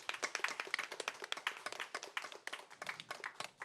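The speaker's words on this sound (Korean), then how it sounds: "큰 박수로 함께해 주시기 바랍니다" Dense, lively applause from an audience opening a 2021 youth parliament public hearing on judicial bills, a steady patter of many hands clapping close by for several seconds without a voice over it.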